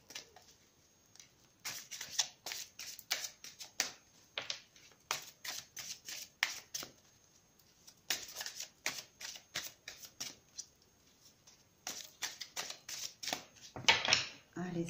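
Tarot cards are shuffled by hand before a three-card draw, giving rapid papery riffles and slaps in uneven bursts, close and crisp, with someone speaking softly underneath at times.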